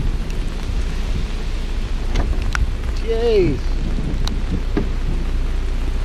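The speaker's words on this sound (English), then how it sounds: "Just waiting for someone to come out of the next lock, and the rain has come." Steady rain pours on a narrowboat waiting at a canal lock, with a low rumble of thunder beneath the constant patter and a brief spoken exclamation.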